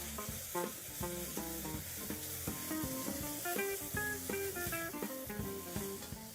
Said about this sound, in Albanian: E skuqi pak.